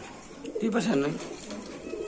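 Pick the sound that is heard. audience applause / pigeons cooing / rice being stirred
pigeons cooing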